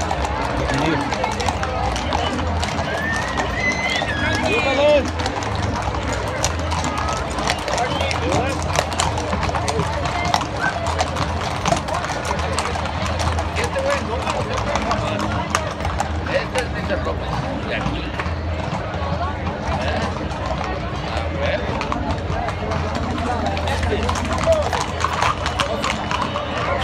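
Horses trot with a steady clip-clop of hooves through a busy town fiesta in Arandas, with continuous crowd chatter and voices throughout.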